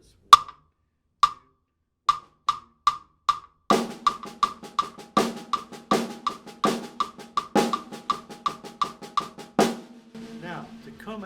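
Snare drum playing an accented pattern over a clave clicked by the left foot, sharp strokes in a steady rhythm with louder accented hits standing out, close and dry, after a few lone opening clicks.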